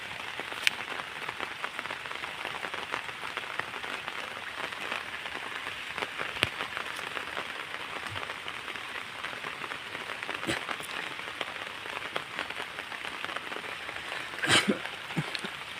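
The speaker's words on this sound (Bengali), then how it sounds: "ঝিরঝির করে বৃষ্টি পড়তেছে।" Light drizzling rain falls steadily over a monsoon-season bottle gourd field, a soft even patter with scattered louder drops and no voices.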